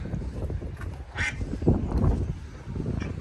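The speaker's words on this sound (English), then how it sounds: "Oh, a little duck." Ducks quacking outdoors on a countryside walk between Silverdale and Carnforth: a few nasal quacks rising over steady wind and ambient rumble, moderately close, with no talking.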